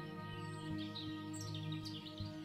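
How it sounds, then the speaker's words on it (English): Birds chirp and trill in a sunny meadow, faint and scattered over a soft, steady background of gentle music-like tones. "The sun is shining and the birds are singing their beautiful song."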